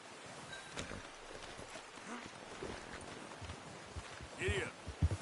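Horse hooves clip-clop on the ground in Red Dead Redemption 2, a soft, irregular run of close footfalls among other quiet game sounds, with brief talk heard over them.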